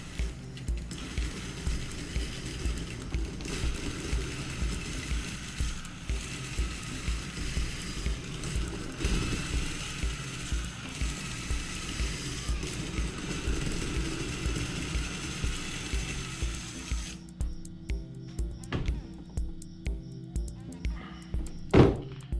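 A hone tool spinning inside a motorcycle cylinder during a CR85RB rebuild, giving a steady grinding, whirring rasp with repeated rhythmic pulses that runs continuously before cutting off near the end, followed by a few faint clicks.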